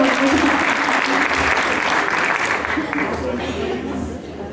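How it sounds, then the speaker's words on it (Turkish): An audience applauds a choir performance, a dense, continuous round of clapping that stays strong before easing off slightly at the end. "Bize alkışlarınızla şimdi."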